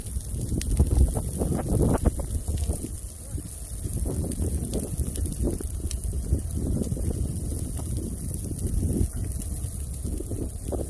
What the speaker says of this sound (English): now the wind is blowing away from camp